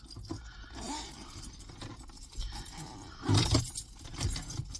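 A set of keys jangles close by in short metallic rattles, loudest in a brief burst toward the end, against faint background noise with no talk.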